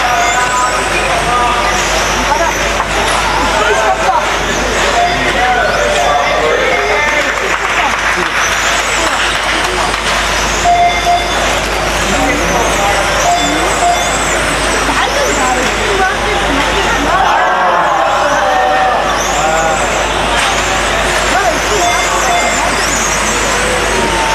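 R/C model race cars buzz and whine around a racing circuit in a dense, continuous wash of motor noise, with an announcer calling the race over the top.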